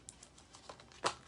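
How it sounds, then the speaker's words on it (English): Tarot cards being shuffled by hand, a soft run of light riffling taps and papery flicks ending in one sharper snap, close and quiet with faint music underneath. "So I'm just shuffling the cards right now."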